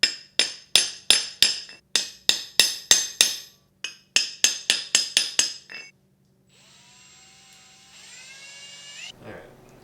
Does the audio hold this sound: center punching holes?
yes